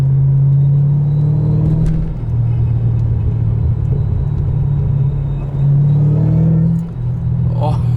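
Supercharged car engine under throttle, a loud steady low drone with rising and falling pitch as boost comes on, continuous throughout with faint voices beneath.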